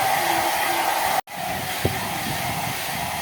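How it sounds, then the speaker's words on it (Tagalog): A blow dryer runs close and loud while drying a freshly bathed pet, a steady whooshing roar that cuts out for an instant and then resumes. "Huwag kang malikot Bulit kaya nag-blower."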